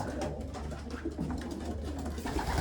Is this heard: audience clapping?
no